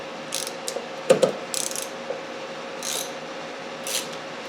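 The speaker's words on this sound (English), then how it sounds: "See if the socket will take it off the rest of the way." A socket wrench ratchets on a damaged nut on a 1971 Honda CB175, giving a few close, sharp clicks and short grinding turns amid light metallic handling, with no talking.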